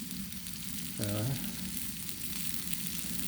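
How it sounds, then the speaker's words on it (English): Sirloin steak sears on a hot griddle with a steady, fairly quiet sizzle and a brief low voice in the background. "I'll crank up the griddle all the way and we'll sear all"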